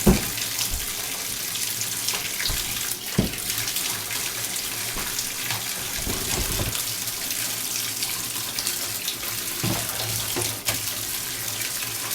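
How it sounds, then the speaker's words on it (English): A tap runs steadily at full hot, water gushing into a sink with a constant hiss and a few brief splashes. "And then I just turn my water all the way to the hot."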